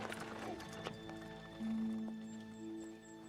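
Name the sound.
horse hooves clip-clopping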